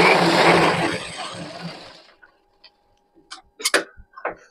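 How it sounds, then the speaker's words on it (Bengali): A sewing machine runs fast and loud as it stitches a bra cut blouse, a dense whirring burst lasting about two seconds. It then stops, and a few scattered clicks and handling taps follow. "তো আমি দুটো করে সেলাই দিয়ে দিই,"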